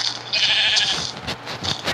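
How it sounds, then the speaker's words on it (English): Sheep in the Minecraft video game bleat, with a sustained bleat followed by a couple of shorter ones, loud and close with no talking over them. "Ooh, sheep."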